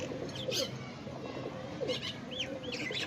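A Teddy pigeon coos nearby in soft repeated throaty notes, with a few brief higher chirps from other birds mixed in.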